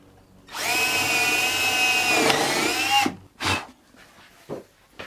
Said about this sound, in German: So schraube ich es doch an.